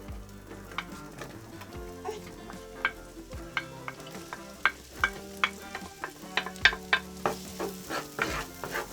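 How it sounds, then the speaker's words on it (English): Onion frying in hot oil for a sweet and sour chicken sauce, a steady close sizzle punctuated by repeated sharp clinks and scrapes of stirring. "So first, we have the oil that's going on. Then put the onion."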